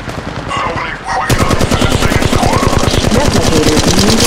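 Rapid automatic gunfire from the mobile battle royale game Apex Legends Mobile rattles in a fast, loud stream of shots, starting after a brief lead-in with game sounds and continuing without pause.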